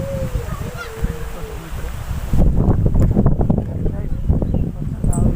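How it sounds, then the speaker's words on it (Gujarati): Strong wind buffets the microphone in a steady low roar on a turmeric farm, with rustling and a few faint voices in the background. "વાતાવરણ પવન પણ બહુ છે, જોઈ શકો છો મિત્રો."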